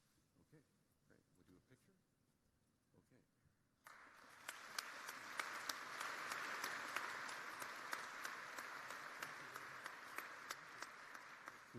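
A university commencement audience breaks into sustained applause after a quieter stretch with a voice speaking, the clapping broad and steady in a large hall for the remaining seconds.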